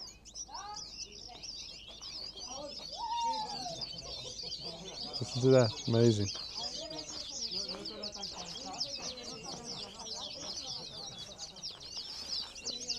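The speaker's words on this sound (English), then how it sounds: "this pine tree is full of Atlantic canaries singing their hearts out" Atlantic canaries sing from a pine tree beside a high-altitude restaurant on Tenerife, a dense, continuous high twittering chorus of many birds that runs the whole time, with a person speaking briefly over it.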